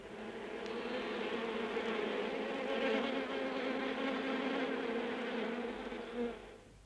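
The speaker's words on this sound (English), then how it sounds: "Brother Adam's super bees begin the final harvest of the year amid the honey fields of Dartmoor" Honeybees swarm around hives among the heather fields of Dartmoor, a dense, steady buzz of many insects holding at moderate volume before tapering off at the end.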